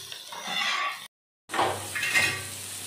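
Cumin and coriander mixed in a pan for chow mein, a loud run of metal spatula scraping and clinking against the pan with faint sizzling, cut by a brief silent gap before the scraping resumes.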